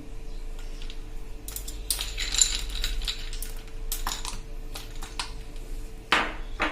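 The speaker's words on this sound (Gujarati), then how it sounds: "આપણે 2 થી 3 આઈસના ક્યુબ નાખી દેશું" Two or three ice cubes dropped into a Gujarati pan shots drink with gulkand, a few sharp clinking knocks against a glass in scattered bursts over a quiet background.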